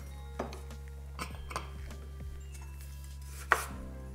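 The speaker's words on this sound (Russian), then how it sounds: "Я их разрезаю на половинки." Knife chopping through cherry tomatoes on a cutting board in a home kitchen, a few sharp separate knocks with one louder clack near the end, close and alone with no talk.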